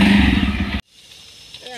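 A motorcycle engine roars loudly and steadily for under a second, then cuts off abruptly, leaving only faint background noise.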